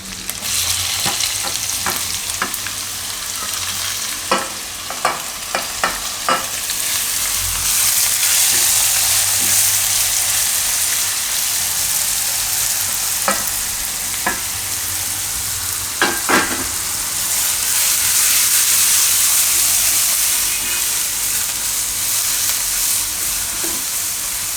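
Bottle gourd fries in hot oil with curry leaves and asafoetida, a loud continuous sizzle punctuated by clicks and scrapes of stirring, surging louder midway, no speech.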